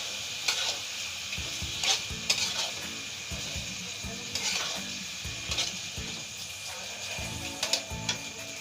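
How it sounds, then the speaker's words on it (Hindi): Mushroom chilli with ketchup and chilli sauce stirred in a pan, with a steady sizzle and repeated scraping and clinking of the spoon against the metal, close and moderately loud, no talking. "अब हम इसे मिक्स कर लेंगे।"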